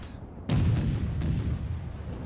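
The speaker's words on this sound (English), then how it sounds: "she is shooting her smaller guns at me" A naval gun battery in World of Warships fires once with a sudden heavy boom, followed by a long, low rumbling roar that carries through the rest of the moment.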